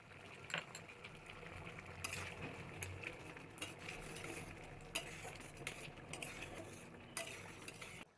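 A spoon stirs tomato chutney with raisins in a pan, with soft repeated scraping and faint clinks of utensil on metal over a low simmering hiss, fairly quiet and continuous.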